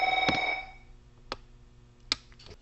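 A telephone rings once, a short bright electronic trill at the start. Then come a few sharp isolated clicks and taps in an otherwise quiet room, with no voices.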